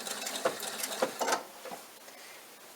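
A sewing machine stitches a seam in a short run of quick mechanical patter, then slows and stops to lock the stitch, fairly faint and close with soft clicking gear sounds.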